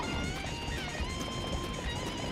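Horse hooves clip-clopping in the Samurai Warriors video game, a steady galloping rhythm under a bright tonal game soundtrack, with no talk.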